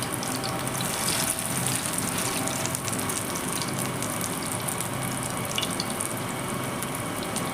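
Lentil and shrimp fritters fry in hot oil with a dense, even bubbling hiss that runs steadily throughout, fairly loud and close, with no talking over it.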